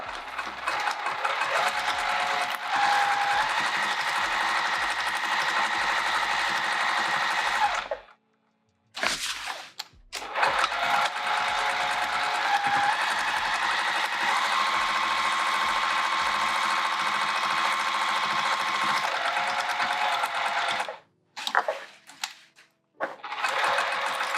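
A sewing machine runs steady, buzzing stitching bursts through layered skirt fabric for an upcycled zipper pouch, working over lumps; two short pauses break the otherwise continuous motor drone.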